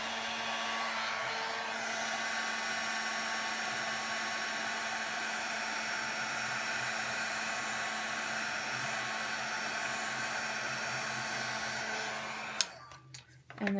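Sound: heat tool drying stamped ink on a candle

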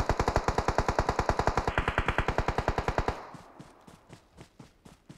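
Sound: gunfire in video game PUBG Mobile

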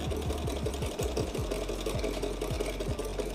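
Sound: sewing machine running and stitching

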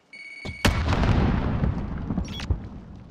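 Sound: grenade thrown and exploding in video game Call of Duty: Modern Warfare

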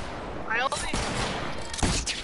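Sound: shotgun fire in a video game

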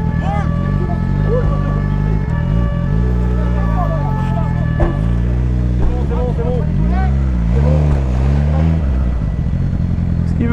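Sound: motorcycle riding away

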